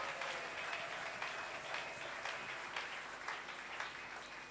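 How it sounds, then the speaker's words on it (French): A church congregation at a Bishop John Mboko service applauds and cheers for Jesus in a sustained, loud wash of clapping with crowd noise, heard from within the room. "Acclamons alors très fort pour Oui, Jésus."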